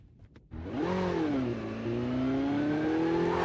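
A motorcycle in a video game approaches, its engine rising to a loud, steady drone that climbs gradually in pitch as it closes in, after a brief quieter start.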